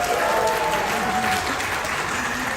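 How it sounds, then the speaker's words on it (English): A conference audience bursts into loud, sustained clapping and cheering that fills the room steadily from start to end. "Team number 1, I want you to make some noise by cheering, clapping, whatever works."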